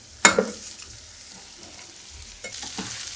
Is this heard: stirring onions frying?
yes